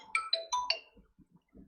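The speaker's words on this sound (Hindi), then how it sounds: "मुझे किसका फोन आ रहा है?" A mobile phone ringtone for an incoming call plays four quick rising melodic beeps, clear and fairly close, followed by a few soft knocks and faint rustling.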